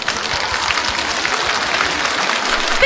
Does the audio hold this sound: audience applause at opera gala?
yes